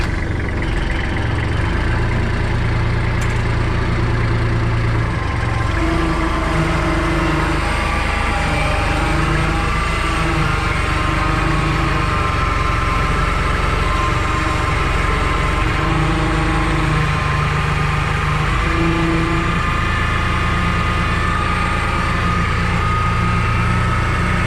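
A tractor engine runs steadily at a low, rough idle throughout while lifting a Scag Freedom zero turn mower in a Hawaii orchard, a constant loud drone with faint rhythmic knocking and no talk.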